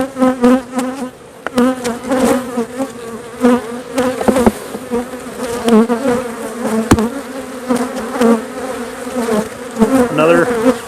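A dense swarm of honey bees buzzes loudly and steadily around a capped honey frame lifted from a hive during a harvest. The drone is close, and its pitch wavers as bees circle.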